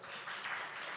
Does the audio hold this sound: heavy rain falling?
no